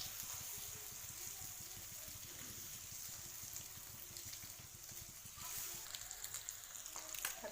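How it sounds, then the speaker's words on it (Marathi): Eggs frying in spiced masala in a home kitchen pan, a steady close sizzle and crackle of hot oil running throughout with small pops, no talking. "त्यात आपण अंडे टाकून घेऊया।"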